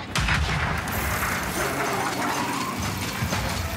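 A grenade goes off in a video game: a loud, dense roar of blast and debris fills the whole stretch, heavy and sustained with no quiet gaps.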